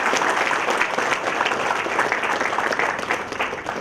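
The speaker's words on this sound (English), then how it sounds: "Come on, give him a big clap." A dense, steady round of applause fills a hall at a veterinary college orientation program, with many hands clapping continuously throughout.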